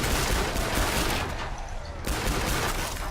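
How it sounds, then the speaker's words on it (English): An AA-12 automatic shotgun blasting away in Killing Floor 2, a dense, continuous barrage of loud gunfire with only a brief dip before the shots resume. "I know it's a shotgun, this old bastard AA-12"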